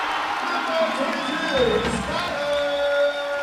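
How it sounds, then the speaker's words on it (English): A basketball arena crowd roars and whoops after a breakaway dunk, a sustained loud cheer with a commentator's voice running over it. "Crowd loves the dunk."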